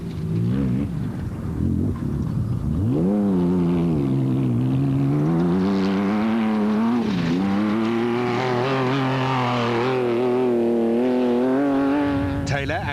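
A Nissan V6-powered Prolong off-road race buggy roars through long rising and falling revs, loud and close, under a commentator's voice.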